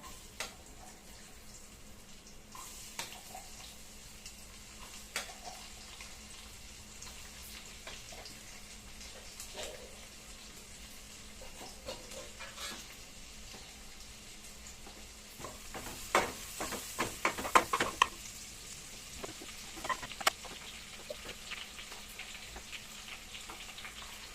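Onions frying in a pan for a chicken gravy give a faint, steady low sizzle, with scattered soft clicks and a busier burst of stirring scrapes partway through.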